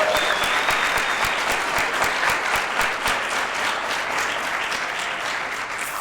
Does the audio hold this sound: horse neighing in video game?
no